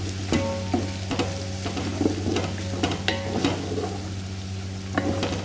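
Garlic sizzling in hot oil in a pan as it is stirred, with a steady frying hiss and repeated clinks and scrapes from the stirring utensil at an irregular rhythm, close up and with no talk.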